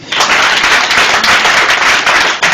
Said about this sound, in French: Acclamons Jésus pour lui.